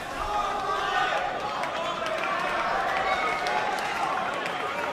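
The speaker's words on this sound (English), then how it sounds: "Nothing wrong with a bit of noise in between shots." Snooker crowd in an O'Sullivan versus Selby match making steady murmuring noise between shots, a dense hum of many voices with scattered claps and clicks throughout.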